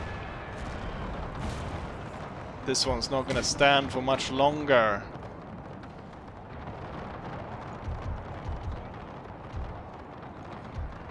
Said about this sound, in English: we've got now enemy cavalry or enemy cannons out here firing on us